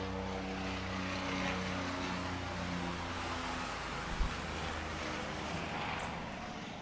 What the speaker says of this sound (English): There's a helicopter plane flying right overhead.